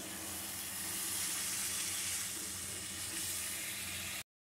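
Warm water poured into a simmering kaju kadai paneer curry sets off a steady, close hiss of sizzling and steam that holds evenly for several seconds before cutting off abruptly.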